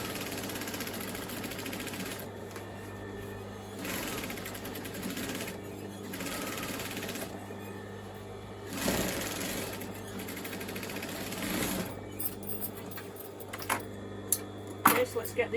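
A sewing machine runs a stitching pass down the side pocket of a dress, a steady mechanical whir with short stops and restarts and some faint handling clatter near the end.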